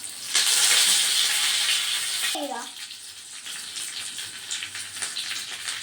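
Curry leaves drop into hot cooking oil, and a loud, broad sizzling hiss starts suddenly and carries on steadily. A voice is briefly heard partway through.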